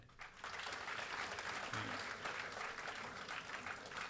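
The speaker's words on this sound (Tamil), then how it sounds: "நின்று கொண்டிருக்கக்கூடிய பேராசிரியர்களுக்கு ஒரு கைத்தட்டு கொடுங்க" Audience at a college Carnatic music event applauds the standing professors, sustained dense clapping filling the hall at a steady level throughout.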